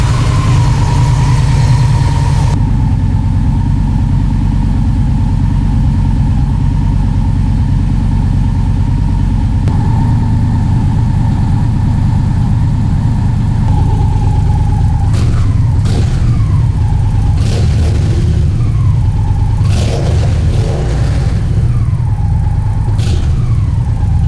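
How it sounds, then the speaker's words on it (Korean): A big 1700cc Victory Vision 8-Ball motorcycle engine idles with a deep, rumbling exhaust, steady and close, with a few brief throttle blips near the end. "1700cc의 엔진에서 뿜어져 나오는 배기음이 굉장히 웅장합니다."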